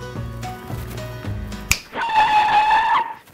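A single sharp finger snap cracks out clearly after a few short tonal notes, followed by a bright ringing chime-like tone, with no talking.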